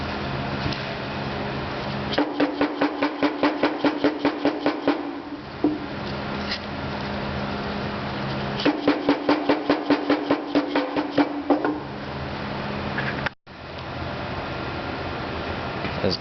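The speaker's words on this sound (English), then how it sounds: "it's sometimes necessary to use a small soft mallet" Small soft mallet tapping on a D2 lathe toolpost to separate its halves: two runs of rapid, evenly spaced light taps over a steady background hum.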